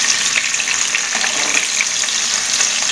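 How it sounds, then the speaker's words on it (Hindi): Slices of suran (elephant foot yam) fry in a pan with a loud, steady, dense sizzle that holds unbroken throughout, close up with no talking. "और इसी तरह करके हम दोनों तरफ से इसे फ्राई कर लेंगे"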